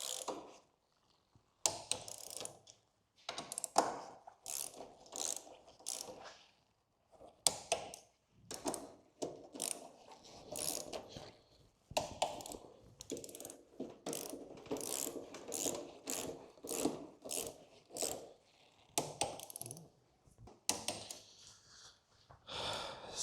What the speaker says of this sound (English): now we're gonna torque them up